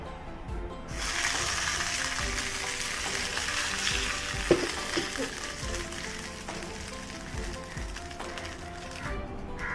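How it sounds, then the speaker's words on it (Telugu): A tempering sizzles in hot oil for a roasted gram chutney, a bright continuous crackle that swells after the first second and holds loud and close, with a few faint knocks from utensils. "ఇప్పుడు మనం దీనికి తాలింపుని యాడ్ చేసుకోవాలి"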